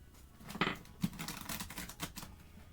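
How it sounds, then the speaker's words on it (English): Quiet, rapid riffling and soft tapping of tarot cards being shuffled close by, in short bursts with no voices. "just do one last good shuffle before I start picking"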